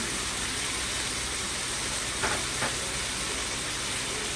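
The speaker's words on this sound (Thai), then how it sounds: "เราจะใส่ตรงผักที่มันสุกย่างไปก่อนนะคะ อย่างเช่นแครอทนะคะ ผัดไปกับเนื้อสัตว์เลยนะคะ" Carrots and seafood sizzle in a hot pan while being stir-fried for a sweet and sour seafood dish: a dense, steady hiss with two faint scraping touches partway through, no voices.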